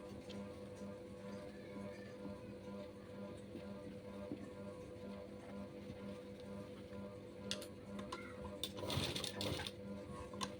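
A sewing machine stitching a designer jacket runs in a low, steady mechanical hum that stays faint and even, with a few brief clicks and rattles near the end.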